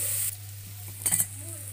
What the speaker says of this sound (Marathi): कांदा भाजते बघा, मसाला भाजते